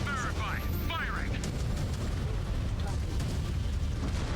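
Mech weapons firing in Mechwarrior 5, heavy booming blasts and rumbling explosions over a dense, loud battle bed, with a synthetic voice and someone talking over the start.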